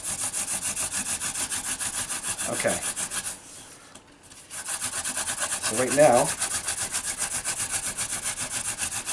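A wooden hand drill spindle grinds steadily into a fireboard while making friction fire, a continuous rasping, sandpaper-like rubbing that pauses briefly midway, with a voice speaking softly over it.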